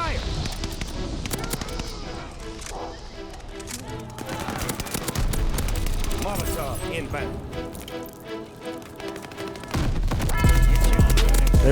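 Rapid bursts of Vargo-S rifle gunfire in Call of Duty Vanguard, close and loud, mixed with other game effects and someone talking over the action.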